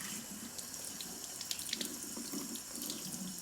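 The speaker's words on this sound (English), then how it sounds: "just rinse it off with some water." Tap water running steadily into a sink while frog meat is rinsed under it, a close continuous splashing rush with small irregular spatters, no voices.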